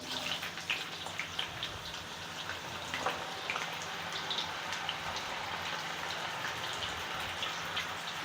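Purple yam and other tubers deep-frying in hot oil, a steady dense crackle and sizzle like rain that holds throughout at moderate loudness, with no talking.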